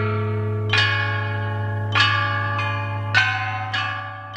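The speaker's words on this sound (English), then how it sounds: "a set of chime bells consists of bells in different sizes, arranged to the order of pitch" Ancient bronze Chinese chime bells, the roughly 2,400-year-old set of Marquis Yi, struck about five times at varying pitches, each strike ringing out with a long shimmering decay over a steady low hum.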